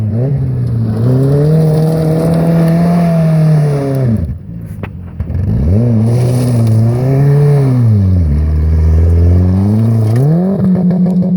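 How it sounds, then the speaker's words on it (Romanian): A Dacia 1310 car engine revs hard in repeated rising and falling surges, loud and close, with a brief drop in the middle before it climbs again and ends on a final rev. "Asta are motor de Dakar, mă."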